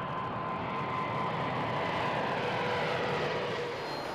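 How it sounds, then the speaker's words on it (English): A Boeing 747-8 airliner on a test flight, heard as a steady, even roar of aircraft engines that holds at a moderate level from start to finish with no voices. "She must undergo a series of grueling test flights before delivery."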